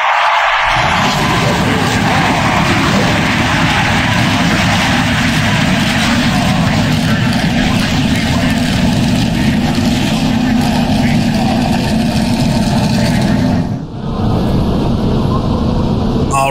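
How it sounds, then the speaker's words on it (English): Several NASCAR stock car engines from the 1990 Budweiser 300 at New Hampshire International Speedway in NASCAR Racing 2003 fire up and drone loudly and steadily, with a high whine over the roar and a brief dip near the end. "Gentlemen, start your engine!"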